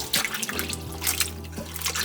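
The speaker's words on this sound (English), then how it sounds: "The PSA to wash your fruit." Blueberries are rinsed under running water in a kitchen, giving a brief close splashing trickle with irregular drips and spatters.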